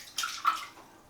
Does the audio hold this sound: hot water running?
yes